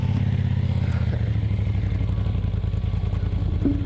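A 2020 KTM 300 XC TPI two-stroke dirt bike, drowned in water, runs roughly and cannot idle, giving a loud, steady, clattering engine drone close by that continues without a break.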